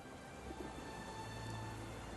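Steady rain falling in a Sherlock Holmes The Awakened game scene outside a flower shop, a soft continuous hiss with a faint low rumble underneath, no voices.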